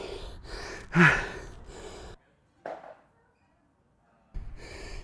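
Heavy, ragged breaths from the exertion of bear crawling puff close to the microphone, with one loud gasp and a few sharp exhales separated by brief silences.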